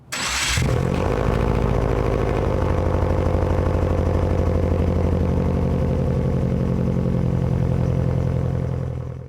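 A 2003 Subaru WRX flat-four turbo engine catches with a short burst of cranking, then settles into a loud, steady, burbling idle through the exhaust, close to the car, running unbroken with no talking.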